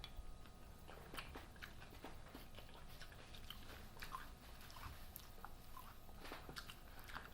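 Someone bites into a taco during a blindfolded mukbang challenge, producing soft, close crunching and chewing sounds in short bursts over a quiet background.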